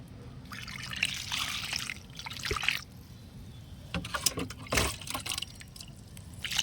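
Water poured around the loosened soil of a potted plant, a soft steady trickle with splashy bursts and a few louder splashes, close by, with no talk.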